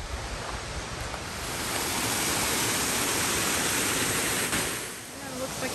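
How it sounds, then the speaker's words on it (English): A small creek waterfall in Forest Falls, California, rushes in a steady, loud broadband wash close by, swelling slightly in the middle and dipping briefly near the end. "Oh yeah, the mini falls right here."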